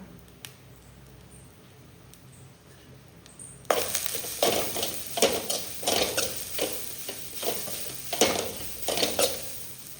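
Grated coconut and curry leaves fry in ghee with turmeric for a chicken curry, a steady sizzle that swells loud partway through, with repeated stirring scrapes and no talk.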